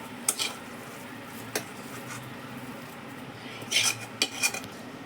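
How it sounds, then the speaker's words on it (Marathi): Coconut barfi mixture is scraped from a pan onto a plate, with scattered metal scrapes and clinks of a spoon against the pan, several short bursts close by with quieter gaps between them. "आता आपण या थाटामध्ये काढून घेतोय"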